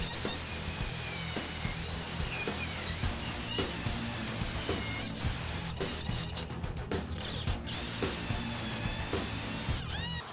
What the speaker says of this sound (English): This is a special cutting bit to cut that out.